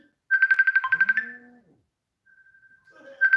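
Incoming-call phone ringtone: a rapid run of repeated electronic tones for about a second, then a quieter sustained tone and the ringing starting again, with no talking over it.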